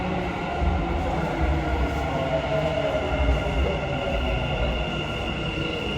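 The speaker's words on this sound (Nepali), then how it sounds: "मेट्रो आइपुगिँदैछ।" A metro train arrives at a station platform with a steady low rumble and rolling clatter that holds at an even, fairly loud level throughout, and no voices are heard.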